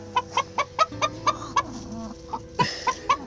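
A hen sitting on a nest full of eggs clucks in a steady series of short, close, fairly loud pulses, with soft murmuring and rustling between them.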